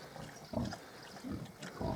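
Several short grunts and squeals from Hungarian Mangalica piglets, close by, coming in quick bursts over a low rustling background.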